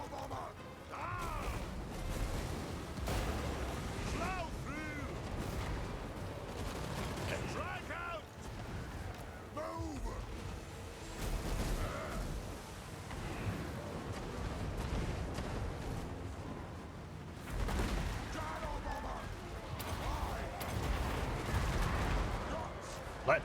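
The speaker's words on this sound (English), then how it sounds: "Let the bombing commence." Bombing and artillery fire in the fantasy strategy game Warhammer 2: Total War, a long stretch of rolling, overlapping blasts and crashing impacts heard at moderate distance, steady and continuous with occasional louder bursts.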